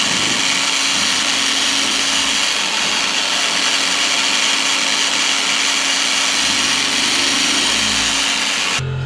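A 6.5 mm drill bit bores out the head of a screw while replacing the lower blade of a professional spindle, giving a steady, loud, continuous whirring drone that runs unbroken for about nine seconds before stopping abruptly.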